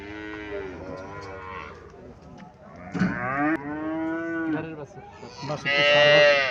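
Cattle moo repeatedly at a village cow market in Cumilla, including an Indian Haryana Jersey cow, with several long, loud drawn-out calls overlapping in close succession amid crowd noise.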